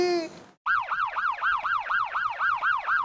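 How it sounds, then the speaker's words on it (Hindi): A police siren wails in fast, repeating up-and-down sweeps, loud and close, after a brief tonal sound at the start. "अरे ये घंटी नहीं, पुलिस का सायरन है।"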